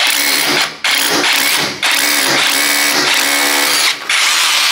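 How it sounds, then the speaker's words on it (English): An SDS hammer drill with a long bit bores through the wall of an old house, loud and close, its grinding roar running steadily with three brief stops. "So I'll use my long SDS bit to drill all the way through."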